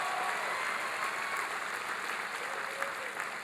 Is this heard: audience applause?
yes